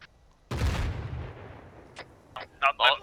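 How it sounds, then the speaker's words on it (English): Artillery fire in the Arma 3 military game, one heavy boom with a long rumbling tail, followed by a few sharper distant gunshot cracks. "We are taking artillery fire."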